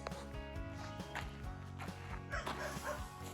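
A dog barks close by in a backyard garden during fall cleanup, giving several quick woofs and yips over a short stretch.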